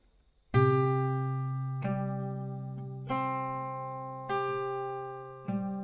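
Acoustic guitar strums five slow, evenly spaced chords from a song, each ringing out and decaying before the next, close and clear with no voices.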